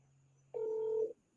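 A single touch-tone telephone keypad beep, a steady dual tone lasting about half a second, sounds close and clear over a faint low hum while a call is being placed.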